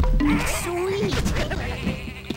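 Sheep bleating in the video game Tak and the Power of Juju: one drawn-out, wavering bleat near the start, then softer short cries over game sounds, with a voice talking alongside.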